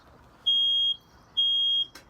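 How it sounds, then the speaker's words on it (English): Two long, high-pitched electronic beeps from a smoke alarm at a campsite, each lasting about half a second, separated by a short pause, followed by a brief click. "it's a smoke alarm. Smoke alarm going off."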